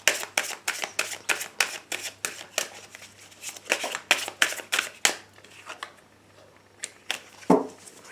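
Fortune-telling cards shuffled and cut by hand, a rapid series of crisp riffling flutters and snaps for about five seconds, then a few slower scattered card slaps and taps.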